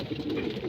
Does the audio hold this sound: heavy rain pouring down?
no